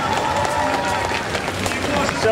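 Audience applause at a festival talk by a speaker at BigFest 2017, a steady, dense wash of many hands clapping throughout, with a voice speaking faintly over it.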